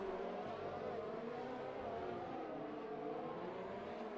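Racing cars in an F1-style video game race at the Austrian track, engines droning steadily and loudly throughout as one car overtakes another under DRS, with continuous layered engine tones and no pauses.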